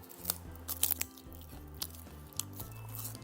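Roasted laver seaweed, pan-toasted sheets, eaten up close: a few crisp crunchy bites and chewing sounds, soft and intermittent.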